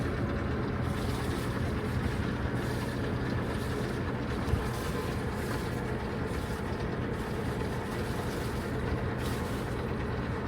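A sailboat motors through a mooring field near Niuatoaputapu, Tonga, with a steady low engine drone and water rush holding constant and fairly loud, with no voices.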